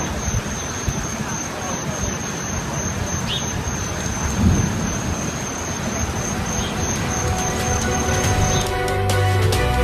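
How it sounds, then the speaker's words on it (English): Heavy, roaring wind and steady rain from Typhoon Soudelor making landfall in Taiwan fill the scene continuously, with low rumbling gusts throughout and a faint high whine in the background. "It's just crazy wind and rain from Typhoon Sodalor as it was making direct landfall in Taiwan."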